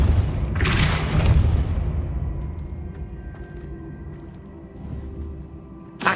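A Depulso spell cast in the Hogwarts Legacy video game, a loud deep booming whoosh that swells over the first two seconds and then fades into a low rumble, with a faint later swish.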